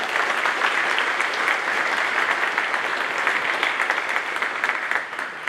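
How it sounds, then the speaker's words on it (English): Sustained, even applause from a ceremony crowd honoring Marines at a change of command at an air station, a continuous dense patter of many hands at moderate distance. "Let's give them a round of applause, please"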